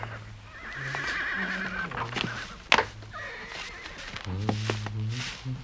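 A horse on a farm neighs repeatedly in loud, wavering whinnies, close by, mixed with a few hoof thuds and other stable noises.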